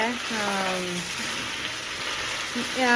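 Okra (bhindi) frying in a pan gives a steady, close sizzling hiss throughout, while a voice talks over it at the start and end.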